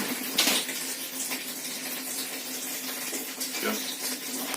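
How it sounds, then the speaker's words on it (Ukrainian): Water running from an opened tap on a boiler, flowing by gravity during a power cut; a steady, fairly quiet rushing stream with a couple of brief clicks or knocks. "Зараз відкриваю кран на бойлері."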